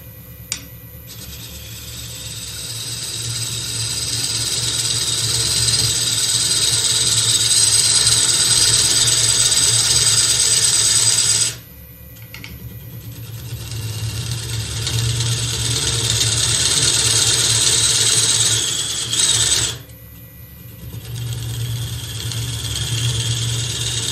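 A wood lathe turns a hollow form while the gouge cuts across end grain, giving a loud, steady whirring scrape with a high hiss that runs in two long passes, each ending in an abrupt stop and short pause.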